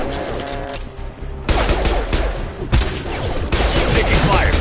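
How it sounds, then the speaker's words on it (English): Heavy gunfire in Mass Effect 2, loud overlapping bursts of automatic fire and sharp shots, with a brief lull early before the barrage resumes and keeps going. "Taking fire!"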